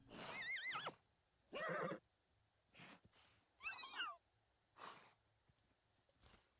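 Horses on a ranch in The Sims 4 give a series of about six short, squealing whinnies and nickers, separated by brief pauses, fairly quiet over faint background sound.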